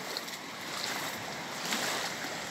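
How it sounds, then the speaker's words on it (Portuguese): Waterfalls on a river pour out a constant, even rush of falling water. It stays steady and moderately loud from start to finish with no voices. "O som das cachoeiras."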